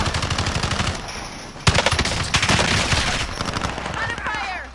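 Sustained rapid machine gun fire in the video game Warzone, loud and dense bursts with a sharp crack midway, while players talk over the shooting.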